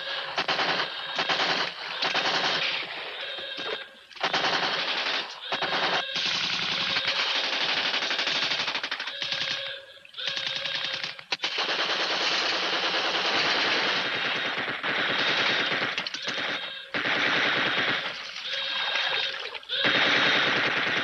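Rapid machine gun fire in a French radio crime and espionage drama comes in long dense bursts of loud, echoing rattling shots broken by short gaps, with almost no pause between rounds.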